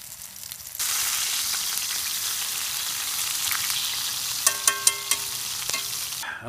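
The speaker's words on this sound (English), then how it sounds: "I'm going to mix it with this and put it in that grease on that cast iron skillet right over there." Cube steak frying in grease in a cast iron skillet at a camp setting, a steady loud sizzle starting abruptly and continuing, with a few sharp clinks of utensils near the end.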